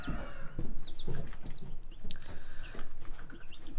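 Young broiler chicks in a brooder peep and cluck in short, scattered bursts, close by and fairly soft, with light rustling underneath.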